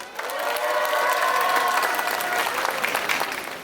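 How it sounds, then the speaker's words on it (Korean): A crowd at an outdoor protest rally in Changwon applauds warmly and steadily, while cheering voices rise over the dense clapping. "힘찬 박수 부탁드려도 되겠지?"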